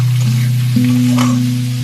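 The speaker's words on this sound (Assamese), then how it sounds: "এতিয়া ধুনীয়াকৈ লৰাইখিনি অলপ টাইম ভাজি ল'ব লাগিব" Chicken pieces frying in a pan while being stirred, a loud close sizzle over a steady low hum, with brief scraping of the spoon through the meat and no voices.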